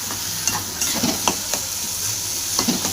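Mashed eggplant bharit is sautéed in a kadhai that wobbles on the stove, producing a steady sizzle broken by regular spatula taps and scrapes.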